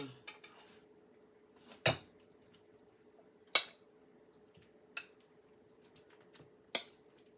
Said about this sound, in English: Oh, I got to really mix this spinach up